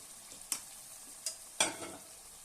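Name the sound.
stirring natu kodi chicken curry in a pan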